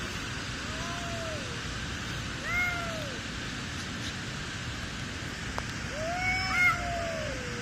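Two mother cats fighting, with long rising-and-falling yowls repeated several times over steady background hiss, fairly close and moderately loud.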